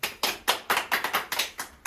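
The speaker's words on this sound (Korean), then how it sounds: "박수" A single person claps about nine times in a quick, even rhythm. The claps are sharp, fairly close and quiet, with no talk over them.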